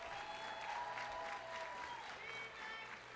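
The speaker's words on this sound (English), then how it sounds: "Give them a round of applause." An outdoor community college commencement audience applauds in a steady, sustained wash of clapping, distant and even, with a faint voice over the top.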